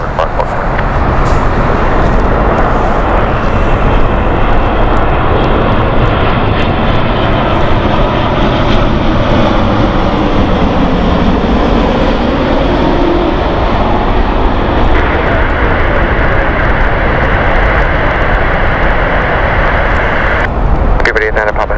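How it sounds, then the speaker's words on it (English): Etihad Boeing 787-10 airliner on approach to land at Heathrow, a loud, steady jet engine roar sustained throughout with a broad rumble, rising in pitch slightly toward the end. "this is going to be Etihad flight 75 Foxtrot with 787-10, let's watch"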